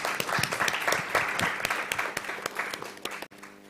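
A short burst of conference audience applause, many hands clapping densely for a few seconds before it cuts off abruptly.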